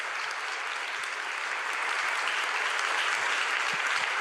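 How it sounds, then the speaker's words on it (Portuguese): A congregation in church applauds continuously, a thick, even wash of clapping that swells slightly toward the end. "Vamos aplaudir Jesus, né?"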